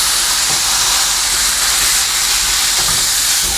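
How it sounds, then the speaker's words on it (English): Hamburger meat sizzles loudly in a hot skillet over medium-high heat, a dense, continuous hiss of frying fat that stays close and steady throughout, with no talking. "Notice the sizzle that we're getting with that."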